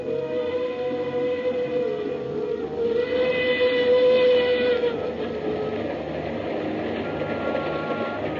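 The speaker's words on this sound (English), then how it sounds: "The mournful whistle of the Cape to Cairo Railroad engine sounded in the night." A long, steady steam locomotive whistle of the Cape to Cairo Railroad wails over a rumbling background in a radio drama, holding a sustained tone for several seconds before fading into the continuing rumble.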